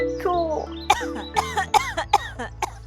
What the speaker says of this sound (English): And now, I'm coughing a lot.